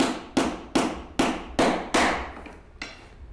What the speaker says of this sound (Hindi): पहले एक किली पूरी ठोक लेंगे इसमें